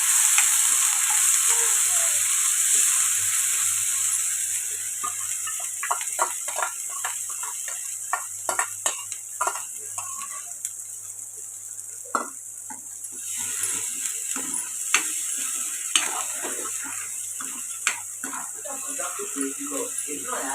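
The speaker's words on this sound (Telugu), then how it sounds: "పేస్ట్ చేసి పెట్టుకున్న ఉల్లిపాయలు జీడిపప్పు టమాటా పేస్ట్ ఇది ఫ్రై చేసుకో" A paste of onion, cashew and tomato fries in oil in a pan for a paneer masala curry, a steady close sizzle broken by scattered stirring clicks and scrapes, with a voice talking over parts of it.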